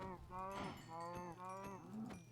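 Several cows moo in a Minecraft Bedrock barn, a video game setting, with harmonic moos following one another steadily through the whole stretch, fairly loud and close.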